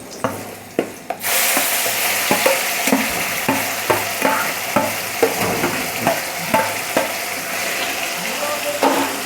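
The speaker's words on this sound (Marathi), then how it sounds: "लसूण चांगलं फ्राय झालेलं आहे गोल्डन असा कलर आलेला आहे" Brinjal frying with golden garlic in a pan: a steady close sizzle with a regular series of sharp spatula scrapes, about one per second, after a few opening knocks, with no talking.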